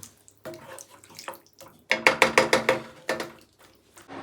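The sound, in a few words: water being poured into a pot for veg kurma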